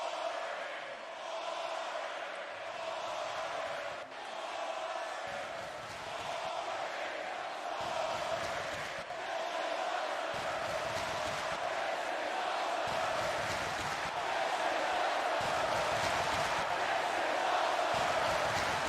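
Crowd noise in a Roblox wrestling show video game: a faint, continuous murmur of a virtual arena audience with light rhythmic swells, low in level.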